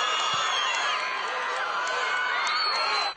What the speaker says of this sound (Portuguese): Quanta gritaria!